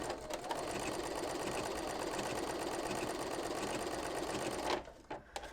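A home sewing machine stitches an embroidery test stitch-out at its smallest width with about 1 mm length, a fast, loud steady mechanical rattle running almost the entire time before stopping abruptly near the end.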